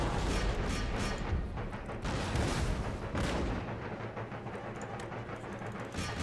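Artillery fire and musket volleys in the strategy game Empire: Total War, a dense, continuous battle din with repeated booming blasts and rumble throughout, loud and unbroken, no talking.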